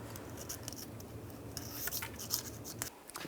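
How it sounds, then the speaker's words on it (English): A razor blade or scraper rasps old gasket material off a 2011-2018 Ram 1500 rear differential cover in short, quiet, irregular scratching strokes, close up and alone. "Just use a razor blade or a scraper. Just scrape as much of it off as possible."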